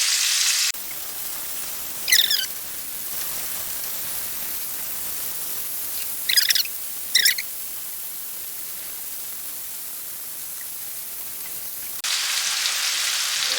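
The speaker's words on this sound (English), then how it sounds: "keep this chicken moving so it just kind of cooks on all the sides" Chicken pieces fry in a pan for a chicken and rice dinner, a continuous soft hiss of sizzling oil with a few brief scraping stirs, louder bursts at the start and end.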